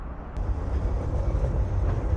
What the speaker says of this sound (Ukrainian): Отак в нас виїжджає потяг з депо і заїжджає в цей тунельчик.